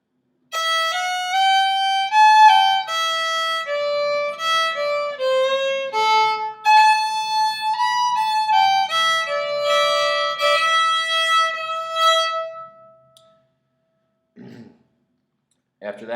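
A fiddle plays the opening section of the tune Lonesome John, a clear solo melody of bowed notes moving steadily for about twelve seconds, followed by a pause and a couple of faint short noises.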